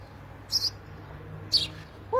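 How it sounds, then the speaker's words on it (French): A small yellow bird gives two short, high chirps about a second apart, followed by a third call at the end, fairly close over a quiet low hum. "Oh, un petit oiseau jaune."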